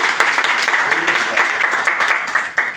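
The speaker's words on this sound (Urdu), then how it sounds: "شاباش، اس بات پہ تالیاں تو بجاؤ" An audience at a distributor training session breaks into clapping, a continuous dense patter of many hands at a brisk rhythm, loud and close, holding steady before tapering slightly at the end.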